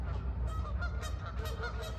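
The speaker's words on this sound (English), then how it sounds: "Sorry about the geese. They're very loud right now." Geese honk loudly and repeatedly outdoors, a dense, continuous chorus of harsh calls that overlap one another throughout.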